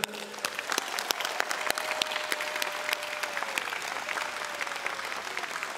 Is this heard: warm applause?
yes